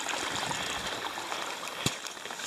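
Floodwater flows over a soggy countryside path in winter, a steady low rushing and trickling close by with one sharp splash near the end.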